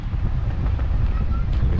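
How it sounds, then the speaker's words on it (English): Strong wind buffeting a microphone at a high lookout over Quebec City: a constant, loud, low rumbling roar with gusty fluctuations throughout. "It is really windy, but what a beautiful view from up here."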